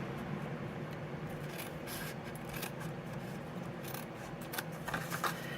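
Scissors snip card-stock pieces for a Stampin' Up box, a faint close run of quick crisp cuts and light paper rustling.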